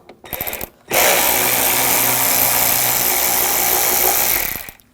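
A T20 socket on a power driver spins out screws on a 2007-2013 BMW 328i 3.0L inline-six, giving a short buzz, a pause, then a long steady whirring run that cuts off abruptly, close and loud.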